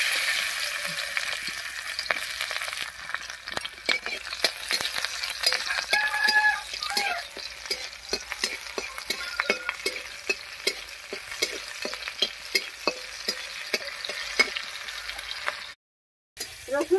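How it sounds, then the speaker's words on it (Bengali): Crushed garlic and slit green chilies fry in hot mustard oil in a kadai, giving a steady sizzle with repeated scraping stirs of a spatula. The sound drops out briefly near the end. "তেল গরম হয়ে গেছে, এবারে তেলের মধ্যে থেতো করা রসুন আর চেরা কাঁচা লঙ্কা দিব।"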